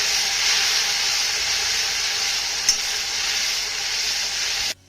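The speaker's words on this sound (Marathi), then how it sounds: "आता हा टोमॅटो ना आपल्याला चांगला मऊसूर परतून घ्यायचा आहे." Chopped tomato sautéing with garlic in a pan: a steady, fairly loud sizzle and hiss continuing unbroken, then cutting off abruptly at the end.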